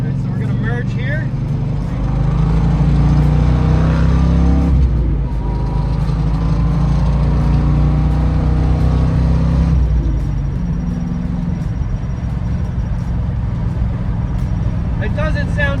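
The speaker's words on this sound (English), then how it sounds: "This exhaust on this car, it's an old school set of glass packs hooked up to like some 2 1/4 inch pipe." A 1971 Ford Mustang with old-school glass pack mufflers on roughly 2 1/4 inch pipe drones loudly at wide open throttle, a steady deep engine roar that climbs through a gear change, with talk over it.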